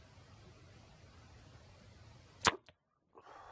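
A Center Point Sniper 370 crossbow fires an arrow: one sharp, loud snap after a stretch of quiet background hiss, followed by a brief thud and near silence.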